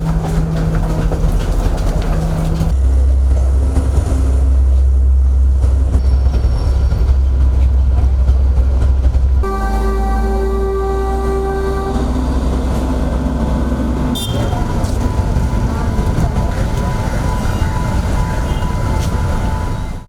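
A crowded train at a station, its loud rolling rumble and rail clatter filling the whole stretch, with shifting mechanical hums and squeals and no talking heard.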